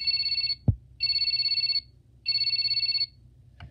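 A toy telephone button on a Little People play house sounds its imitation ring: two long electronic trilling bursts, each near a second, with a short click before the first and another near the end, clear and close with no talk.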